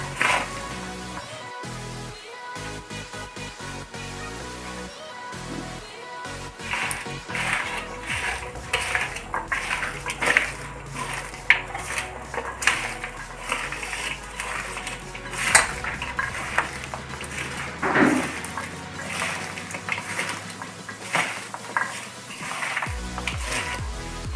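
Beetroot chips being mixed with chili powder, salt and oil in a bowl, busy close rattling clinks and scrapes of spoon on dish, irregular and continuous, with no talking.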